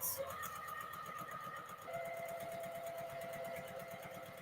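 A sewing machine stitches a 5/8 inch seam allowance through fabric pieces placed right sides together, its needle chattering in a fast, steady rhythm that carries on unbroken and close, with a faint tonal hum beneath it.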